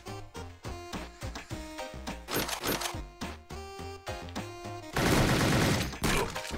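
Rapid gunfire from the video game Rot Gut, bursts of sharp rhythmic shots over a steady musical beat, ending in a louder, denser barrage.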